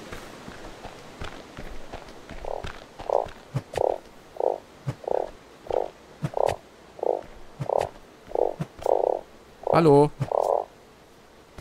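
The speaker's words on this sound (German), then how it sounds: "Das ist noch ein Frosch." A frog in the survival game Starsand croaks in a steady series of about a dozen evenly spaced, moderately loud croaks over quiet footsteps, and a voice briefly speaks near the end.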